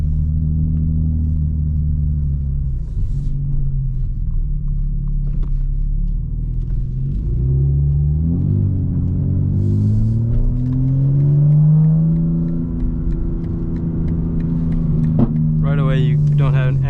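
A tuned 900 hp 2025 BMW M4 Competition xDrive engine drones steadily from inside the cabin under a low road rumble. Its pitch rises and falls as the car accelerates and eases off, and a voice speaks over it.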